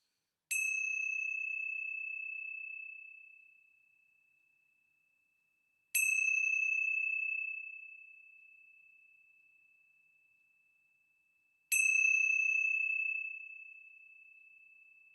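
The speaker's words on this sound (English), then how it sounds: "let's begin our time together with the ringing of the bells" Three clear chimes of a meditation bell ring out one by one, each struck cleanly and left to fade slowly into silence.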